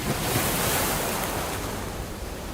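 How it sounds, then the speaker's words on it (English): Ocean waves surge and wash continuously in the video game Limbus Company, a full, steady rushing surf with a windy hiss and no voices. "the sounds of the waves"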